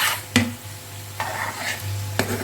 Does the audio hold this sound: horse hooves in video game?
no